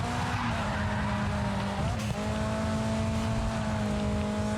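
Race car tires skid and squeal through a corner in GRID 2, a steady engine drone running underneath with a brief scrape partway through, loud and continuous.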